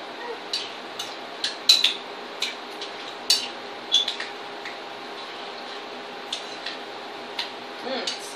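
A spoon stirring currants and cranberries in a pot for cranberry chutney, light irregular clinks and scrapes at moderate distance with a steady background hum.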